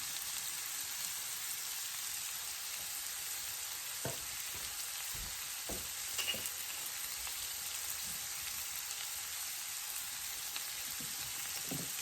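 Cheesy grits being stirred in a pot over low heat, a steady fizzing sizzle with soft spoon scrapes and taps around the middle, close and with no talking.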